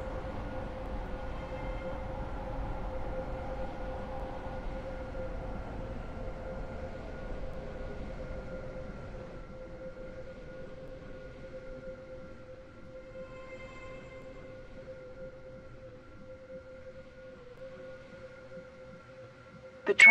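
A Class 385/1 train runs through a Stepford County Railway station in Roblox without stopping, its steady mechanical hum and drone holding for about twenty seconds and slowly fading, with no voices and a sharp click at the very end.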